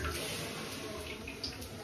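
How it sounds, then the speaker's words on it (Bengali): Steady tap water running into a sink while leafy greens are rinsed, a continuous close hiss with no talk. "এখন শাকটা একটু ধুয়ে নিই আমি"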